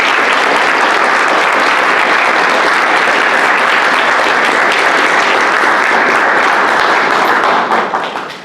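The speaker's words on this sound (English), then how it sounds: "can we get a round of applause?" Loud, dense applause from an audience at a museum art exhibition event, sustained sheets of clapping that hold steady and then taper off at the very end.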